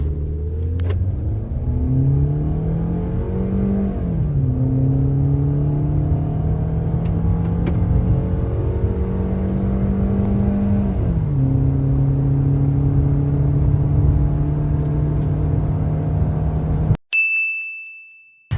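Maruti Suzuki Victoris petrol automatic accelerating hard from 0 to 100, its engine note climbing steadily through two smooth gear changes before a brief chime as it ends; no talking.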